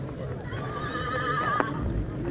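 A horse at a horse market gives a clear, fairly close neigh, with hoof clops, market murmur and a human voice underneath.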